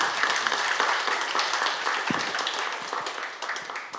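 Scattered audience applause at a Korean infrastructure-investment panel forum, a fairly dense, steady patter of hands clapping at moderate distance, fading slightly near the end with no speech over it.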